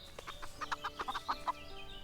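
A chicken in the farming video game Everdream Valley clucks in a quick run of short, evenly spaced clucks, close and clear over a soft ambient game background.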